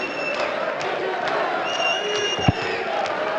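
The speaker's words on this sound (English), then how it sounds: "Crowd trying to lift their man" A darts crowd at a European Tour match in Austria rumbles with steady, moderate cheering and scattered shouts for Peter Wright, a continuous murmur of voices with one brief sharp bang midway.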